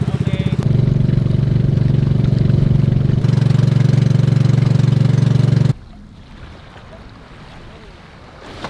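A motorboat engine idles at a steady, loud low drone close by for several seconds, then stops abruptly, leaving quieter water and wind ambience from the sea near a beach.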